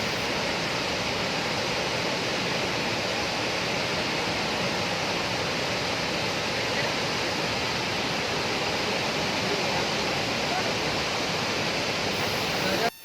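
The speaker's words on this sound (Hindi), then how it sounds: "पहाड़ों से झरने की शक्ल में गिरते हुए पानी और उसमें से निकलने वाली आवाजें मानो एक अलग ही समा बांध देती।" Water plunging at Dassam waterfall: a dense, unbroken roar of falling water that holds loud and steady from start to finish.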